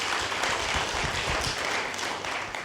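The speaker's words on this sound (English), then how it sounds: "Please give her a round of applause." An audience at a music conference applauds for a government minister, a dense steady wash of clapping that holds at a moderate, even level from start to finish with no voices over it.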